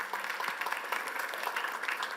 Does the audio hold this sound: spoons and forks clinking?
no